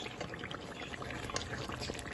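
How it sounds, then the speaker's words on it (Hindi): Water poured into a pot of aloo chicken shorba curry, a steady, soft continuous stream with light bubbling and splashing, close and without talk. "पानी लगा लेंगे"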